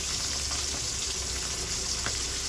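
Squash cooking in a pan, sautéed on a stove: a steady, close, loud hiss and sizzle with faint scraping stir sounds running through it and no speech.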